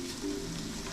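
Carrots and celery are stirred in a Le Creuset pot with a soft, continuous sizzle and faint scraping, quiet and close for about a second.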